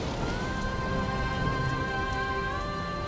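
Steady rain falls in a Hindi TV serial scene, a constant dense hiss of drops on surfaces with faint tonal music held underneath, continuous and unchanging throughout.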